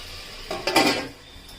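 A metal lid set down on a pot of mutton, a short clatter of metal on metal near the mic, heard alone in a home kitchen.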